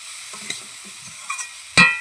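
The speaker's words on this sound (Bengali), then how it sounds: "দিয়ে একটু ভালো করে নাড়ব" Vegetables with turmeric and chili are stirred in a frying pan: soft sizzling and light scrapes of the spatula, ending in a sharp metallic clang against the pan.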